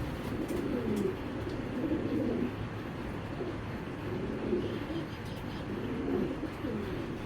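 A breeding pair of racing pigeons coos in repeated low, throaty phrases, each lasting about a second, in a steady rhythm over a constant background hum.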